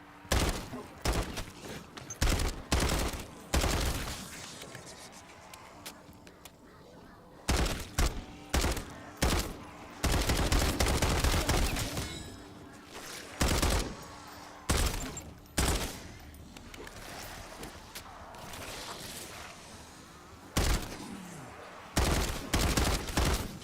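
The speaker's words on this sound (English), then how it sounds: "I'm like tap firing this because it kind of kicks." A gun tap-fired in Fortnite Zombies mode, loud bursts of short rapid shots in clusters separated by quieter pauses, repeating across the stretch with occasional longer sustained volleys.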